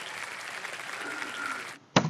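Studio audience applause on a TV quiz show, a dense steady wash of clapping that runs for under two seconds, then cuts off abruptly before a short loud burst of sound.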